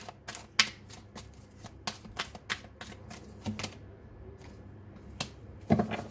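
Tarot deck being shuffled by hand: close, crisp riffling and card slaps in quick irregular bursts with short pauses between them, no voice.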